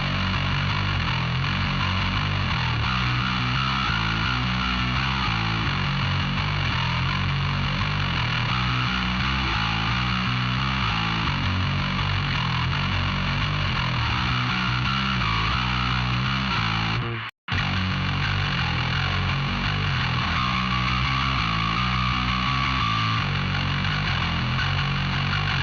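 Isolated electric bass guitar tones from an ESP LTD and a second bass, a sustained, distorted low tone playing continuously and loud, cut by a brief dropout near the end.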